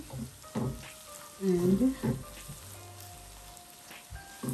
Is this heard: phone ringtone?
no